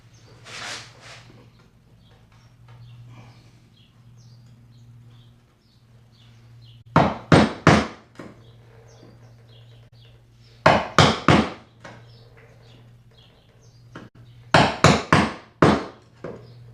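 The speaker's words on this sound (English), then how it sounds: "Let's get this pared down to square." A chisel pares a wooden joint down to square for a spice rack: three close groups of three or four sharp, woody strikes, separated by quiet stretches with faint scraping.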